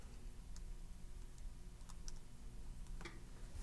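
Calculator keys are pressed to enter a square root, a few soft, scattered clicks that sound faint and close over a quiet background, with no talking.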